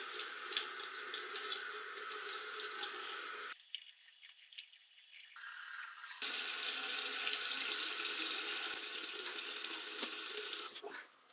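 A bathroom tap runs steadily while someone washes their face, the water splashing at the sink, briefly dropping away partway through before the flow resumes and cuts off at the end.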